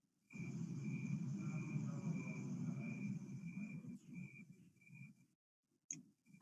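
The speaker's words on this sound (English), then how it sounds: "No joke, I actually hear crickets." Crickets trill continuously through an open window in a rhythmic, faint chirping that holds steady for several seconds. It thins and drops out near the end before briefly resuming.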